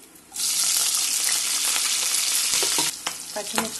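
Cumin, mustard seeds and urad dal frying in hot oil in a pan, starting with a sudden loud sizzle that holds steady, then breaking into stirring clatter and crackles toward the end.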